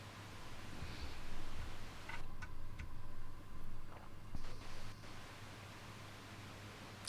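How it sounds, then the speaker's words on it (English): White noise runs through a Catalinbread Belle Epoch tape echo pedal, a steady hiss with soft rolling swells and faint ticking clicks, fairly even in level and with no voices. "Could try some white noise instead."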